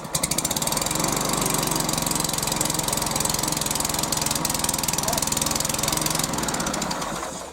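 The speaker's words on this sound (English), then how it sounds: "Pull back on the OPC lever and start the lawnmower." A HYM430SPER petrol lawnmower engine cold-starts and runs steadily at a loud, close, continuous drone for about six seconds, then begins to wind down near the end.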